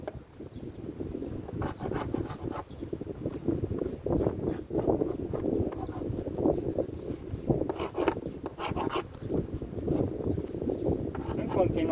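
Steady wind buffets an outdoor apiary among beehives, a constant rough rushing with gusty swells and microphone buffeting that runs through the whole stretch, with brief patters and knocks on top.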